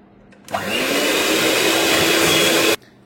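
Electric mixer beating mascarpone cheese into whipped cream for an eggless strawberry tiramisu, a loud, steady whirring drone that starts abruptly, holds for about two seconds and then cuts off, with no talking.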